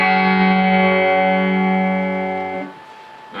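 An electric guitar plays a dry, unprocessed sustained chord with no reverb. It rings loud and steady, then fades quickly into near silence after about two and a half seconds.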